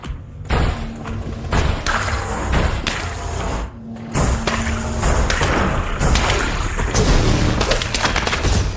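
Weapon alt fire ripping through an enemy in the VR shooter Genotype: a dense, continuous barrage of heavy thuds, booms and gunfire-like bursts, loud and close, with brief dips and no talking.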